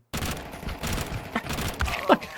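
Quick bursts of burst-fire gunfire in Counter-Strike 2, several short volleys in rapid succession, fairly close, with a brief grunt near the end.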